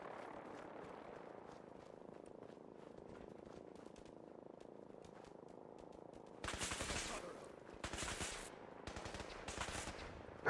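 Bursts of automatic gunfire from power-armored enemies in Fallout 4, loud broadband volleys arriving in three or four clusters over a steady rumbling game background in the second half.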